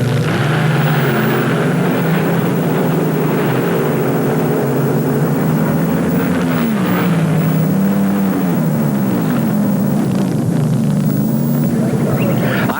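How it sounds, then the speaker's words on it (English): Drag racing cars at the NHRA World Finals at Ontario Motor Speedway, California, in 1978: a loud, sustained engine roar with shifting pitch that dips and swells, dense and continuous throughout. "Drag racing."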